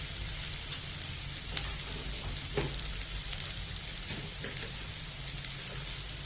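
Poha ingredients with turmeric crackle as they are sautéed in a pan, a continuous soft sizzle with occasional stirring scrapes and no talking.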